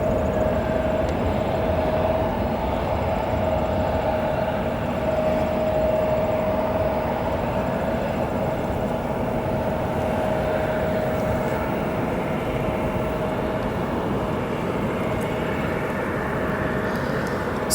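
An Asiana Boeing 747 cargo jet taxis at O'Hare Airport, giving a continuous, steady engine rumble with a faint high whine over it; no talking.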